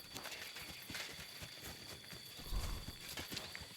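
Horse hooves clip-clopping in the video game Kingdom Come: Deliverance II, a quick run of close, distinct hoof knocks over a low ambient background, with a brief louder thump near the end.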